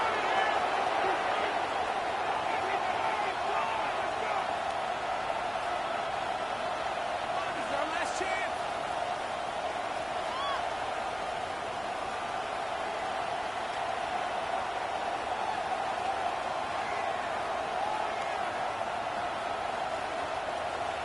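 Steady stadium crowd roar from an American football video game, the crowd pushing near the end of a close game; a continuous dense wash of noise at even level with a few faint sharper bursts.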